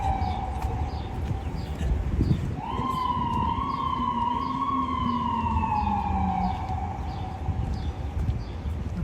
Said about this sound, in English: That's the new sound police sirens in New York make